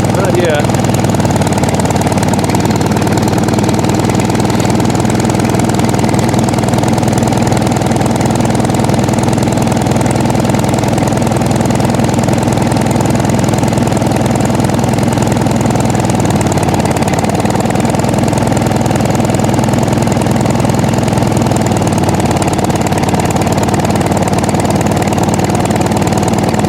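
A Farmall H tractor engine idles steadily after a cold start in zero-degree weather, a loud, close, continuous chugging rumble that runs the whole time with slight dips in speed, and a voice speaks briefly over it.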